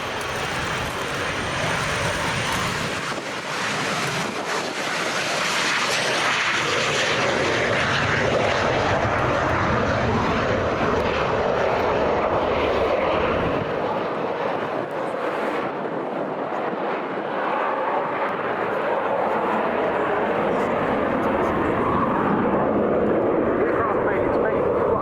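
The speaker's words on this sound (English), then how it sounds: "Just look at this, the Messerschmitt ME-262 from the Messerschmitt Foundation and Airbus" A Messerschmitt ME-262 jet rolls past at the RIAT 2023 air display, a loud sustained roaring engine drone with rushing wind noise, swelling and shifting over many seconds as a commentator speaks.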